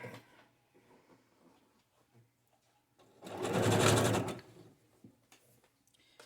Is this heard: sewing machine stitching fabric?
yes